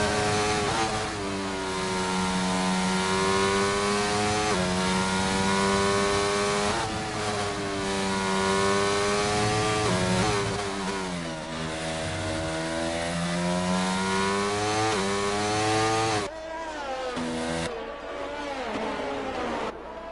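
Renault-powered Alpine Formula 1 car engine in a racing video game, screaming loudly and continuously with rising and falling revs through gear shifts, briefly dropping off near the end before picking up again.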